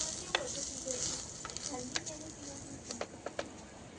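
Chopped onion sizzles in a clay pot over a fast flame on a country wood-fired stove, with soft steady frying and sharp clicks of stirring close by.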